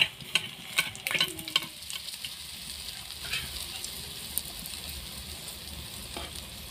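Bangar vegetable fried in a pan, Santali style, with a spoon stirring: sharp scraping stir strokes come in a busy run early on, then settle into a steady low sizzle with occasional clinks.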